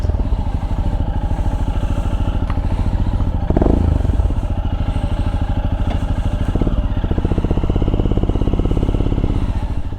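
A Royal Enfield motorcycle fitted with a Zard exhaust rides along with a steady, loud, close thumping engine note and a brief louder clatter partway through, with no talk.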